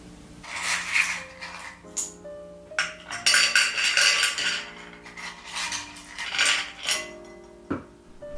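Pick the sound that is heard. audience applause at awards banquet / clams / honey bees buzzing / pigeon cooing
clams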